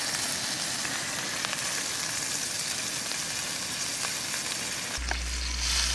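Steak sizzles steadily in a pan over an uneven camp stove flame, a loud continuous fry with faint scrapes as the pan shifts, and a low rumbling hum joins near the end.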